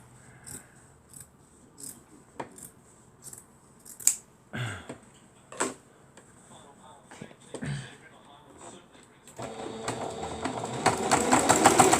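Short, sharp snips repeat at irregular intervals, like scissors cutting through material, followed by a louder stretch of whirring machine noise.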